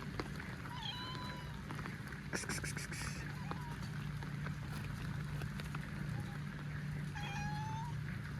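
A wet cat out in the rain meows in a few thin, plaintive cries under a steady background of rainfall, with a brief patter of clatter in between.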